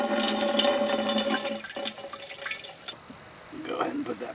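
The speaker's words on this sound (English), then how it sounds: "I'm gonna go ahead and pour a little water in the top" Water pours and splashes into the radiator of a Kubota L3901 tractor during a coolant flush, a steady gurgling flow that tapers off and then briefly resumes.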